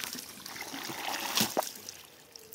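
Hydraulic ram pump being set going, with a thin trickle and dribble of water close by and a couple of brief knocks or clanks partway through; the sound is fairly quiet and steady, with no speech.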